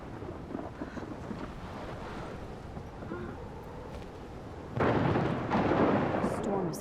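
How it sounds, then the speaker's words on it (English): Low rumbling thunder of an approaching storm in the video game Life Is Strange, a steady murky rumble that swells louder and harsher near the end, with wind-like noise throughout. "Storm is coming."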